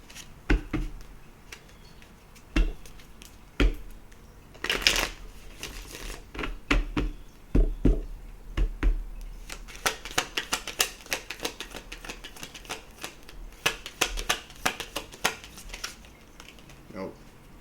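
Tarot cards shuffled in the hands, a run of sharp papery riffles and snaps, sparse at first and then rapid and dense in the second half, close and fairly loud.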